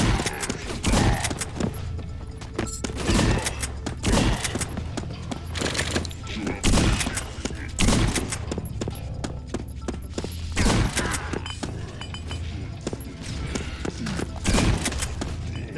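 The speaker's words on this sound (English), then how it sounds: "Seems like this bolter pistol is going to be quite handy even later on." Bolter pistol gunfire in the video game Doombringer, heavy bursts of shots repeating every couple of seconds over a steady game background, with a voice talking at times.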